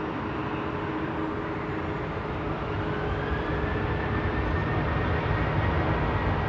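Steady, loud roar of a Ryanair airliner departing Manchester Airport, a broad continuous engine rumble with a faint rising whine, holding level throughout without any talk.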